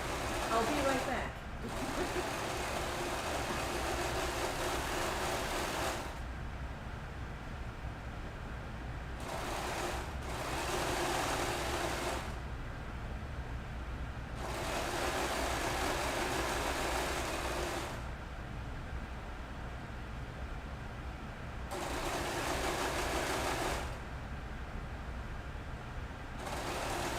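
A serger sewing machine runs in long bursts of steady motor whirring, stopping briefly between runs, with a low hum underneath and voices chatting in the room around it.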